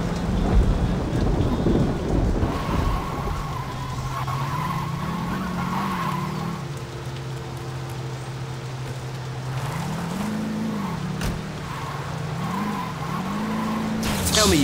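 Steady rain pours with rumbling thunder in the video game Saints Row 2, while an engine drones and whines up and down underneath, loud and continuous throughout.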